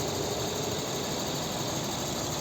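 Steady idle of a 1.4 TSI petrol engine in a 2007 Volkswagen Touran with a manual gearbox, a constant low rumble holding one level throughout.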